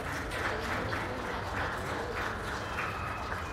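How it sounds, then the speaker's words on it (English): Faint, distant applause from spectators in the show ring at a county fair goat show, a steady wash of clapping that holds for a few seconds. "Please give them a round of applause for all of their hard work."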